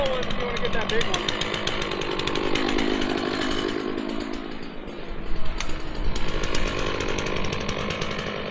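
A chainsaw runs close by while clearing small trees, its engine droning unevenly and surging as it bites into wood, with people talking over it.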